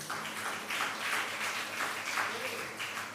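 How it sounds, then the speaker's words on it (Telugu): A church congregation at Sunday Mass claps hard together in loud, uneven bursts that swell and ease, with a murmur of voices underneath. "ఒకసారి గట్టిగా చప్పట్లు కొడదామా?"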